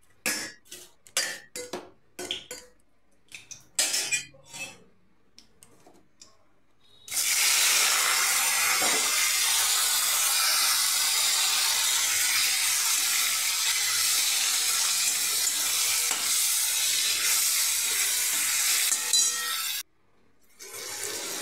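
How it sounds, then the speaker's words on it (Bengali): Damp soybean chunks coated in turmeric and salt go into hot mustard oil. A few scattered clicks and taps come first, then a sudden loud, steady hissing sizzle that runs for about thirteen seconds before cutting off sharply. "সোয়াবিনগুলোকে সর্ষের তেলে ভেজে নেব।"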